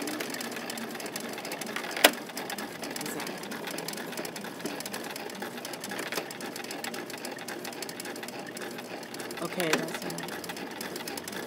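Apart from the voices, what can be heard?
sewing machine stitching and backstitching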